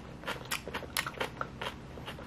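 Crisp crunchy bites and chewing of a large-cut homemade onion pickle, several sharp crackling crunches close to the microphone, quiet and alone.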